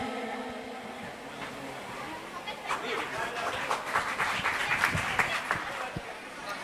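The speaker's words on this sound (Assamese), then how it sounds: "পুনৰবাৰ এটা হাত চাপৰি বিচাৰিছোঁ" An audience at an event breaks into applause that builds from scattered claps into steady, dense clapping, with crowd chatter and voices underneath.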